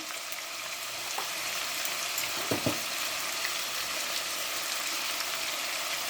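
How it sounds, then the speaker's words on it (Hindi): Steady, close-up sizzling of chicken frying in ginger garlic paste in a pan, with a couple of brief stirring clatters partway through. "अदरक लहसुन के पेस्ट के साथ मैंने चिकन को फ्राई कर लिया है।"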